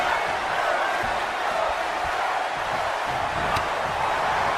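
A crowd chants in the WWE 2K23 wrestling video game, a loud, dense and rhythmic roar of many voices through a match, with a commentator's voice mixed in.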